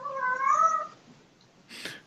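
A pet cat gives one clear, drawn-out meow, followed a moment later by a short, breathy second call, close by in a quiet room.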